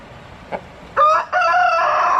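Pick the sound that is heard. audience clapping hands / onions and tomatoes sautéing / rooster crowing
rooster crowing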